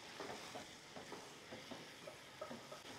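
Green peas roasting in a pan for aloo matar pulao, giving a faint, soft crackle with gentle stirring scrapes coming in light, irregular bursts.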